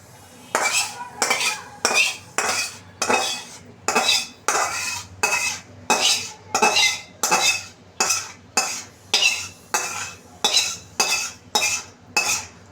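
A spoon scrapes and knocks against a pan of homemade tomato sauce in an even, repeated rhythm, about one loud metallic stroke every second, close and clear with no talking.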